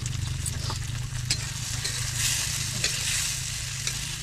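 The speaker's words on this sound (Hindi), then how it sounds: "तेल में देखो आप लोग कैसे पक रहा है" Food cooks in oil over a wood fire, giving a steady close sizzle with occasional stirring scrapes over a low continuous rumble, with no voices.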